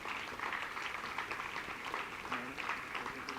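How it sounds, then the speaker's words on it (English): Sustained applause from an audience at an award ceremony, a dense steady patter of clapping heard at moderate distance for the whole stretch, with no voice over it. "Please continue with the applause."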